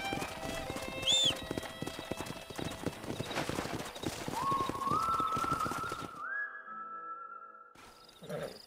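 Horse hooves clip-clop steadily and close by in Red Dead Redemption, a Western-era game setting, with a brief whistle and a faint whinny-like tone over the rhythmic trotting before it drops off near the end.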